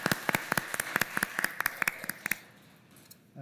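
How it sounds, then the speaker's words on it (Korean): A church congregation at a Christmas and year-end Sunday service claps together in a quick, even rhythm of distinct claps for about two seconds, then stops abruptly, leaving the room quiet. "한번 우리 박수해 주시면 고맙겠습니다"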